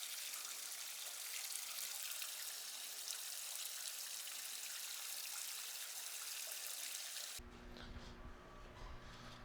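Wort recirculating through a pump during a beer mash on large brewing equipment, a steady trickling, splashing flow of liquid, fairly close and continuous, with a low hum of machinery coming in near the end.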